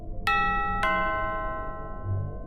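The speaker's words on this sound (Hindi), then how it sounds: "कुछ ही देर में बाहर की घंटी दोबारा बजी" A doorbell at a hotel entrance rings out in two bright, sharp chimes about half a second apart, each tone ringing on and slowly fading in an otherwise quiet setting.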